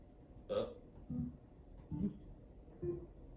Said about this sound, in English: if we want kind of a short bass